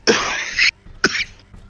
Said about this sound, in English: It's the cough that wants to hang around.